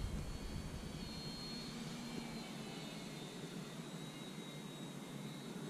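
A foam board Sopwith Camel model airplane flies past with a steady buzzing whine from its electric motor, faint and distant under outdoor wind noise, and no voices.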